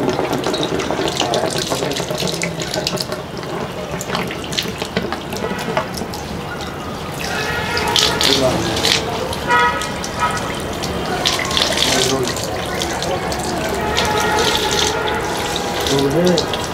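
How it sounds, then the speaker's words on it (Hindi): Fresh water poured into an emptied desi hookah, a steady continuous splashing and trickling stream that runs throughout, fairly loud and close, with no talk over it. "अब इसमें हम फिर से एक फ्रेश पानी डालेंगे।"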